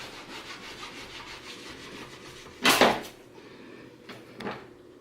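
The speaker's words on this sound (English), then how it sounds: "I'm just going to go ahead and make these 1/4 inch slices" A blade cuts venison into quarter-inch slices, with a soft rhythmic sawing rub, then one louder scraping stroke and a fainter one near the end, close by with no talk.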